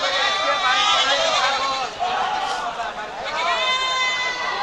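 Many native goats bleat in overlapping cries at a busy livestock market in Bangladesh, with people chattering close by throughout.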